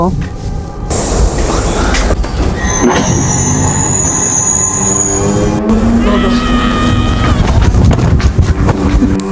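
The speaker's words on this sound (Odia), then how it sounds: "କେତେବେଳେ ଟ୍ରେନଟା ଆସିବ?" A train rumbles into a station with loud continuous rolling noise and squealing wheels, under a bustle of voices and chatter on the platform.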